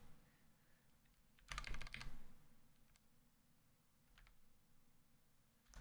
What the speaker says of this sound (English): I keep typing Iron Mouse with an I in it